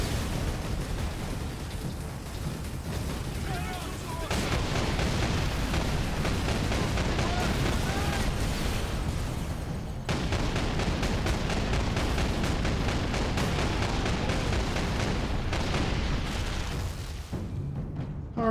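Autocannon fire in the video game Warhammer 40k: Space Marine, a dense, continuous roar of heavy gunfire and booming explosions filling the whole stretch, loud and unbroken with a brief shift partway through.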